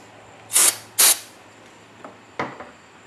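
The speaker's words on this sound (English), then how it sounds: "So we're just going to clean that off real quick with a rag, a little bit of brake clean." Brake cleaner sprayed onto an air conditioner fitting on a 2002 Dodge Durango, two short loud hissing bursts followed by fainter spritzes and a soft click.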